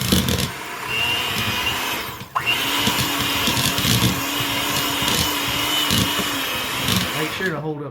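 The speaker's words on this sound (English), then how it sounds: "you beat it with your mixer until it's smooth" An electric hand mixer beats a block of cream cheese in a bowl, a steady loud whirring drone with a brief dip near the middle, close by, while a person talks over it.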